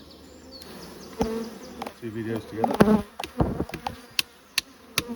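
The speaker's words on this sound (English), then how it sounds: "knock all the bees off" Honey bees buzz around an opened hive while a beekeeper works the boxes. Faint humming runs throughout, with sharp knocks and clatters of equipment. A few brief words are spoken.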